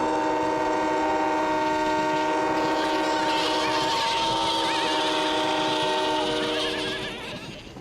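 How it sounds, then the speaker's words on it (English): Cartoon trains blow their whistles together in a loud, sustained chorus of bright, layered tones that holds for several seconds, then trails off at the end. "Let's make the sheep scatter by blowing our whistles together."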